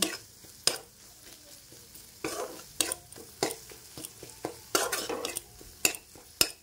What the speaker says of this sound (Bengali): ভালো করে মশলাটা আমি কষিয়ে নেব লো স্টিমে।